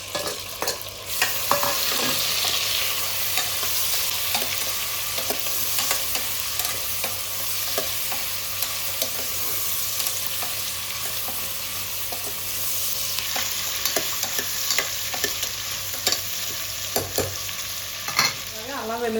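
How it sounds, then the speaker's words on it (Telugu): Raw prawns hit a hot pan for a gonggura prawn pulao, a loud, continuous sizzle of frying with stirring scrapes throughout and no speech. "ముందుగా కలిపి పెట్టుకున్న రొయ్యలు కూడా ఇందులో వేసేస్తున్నాను"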